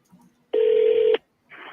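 Telephone keypad dialing tones during a real estate cold call: a faint blip, then one loud sustained tone lasting about half a second, followed by the start of another quieter tone.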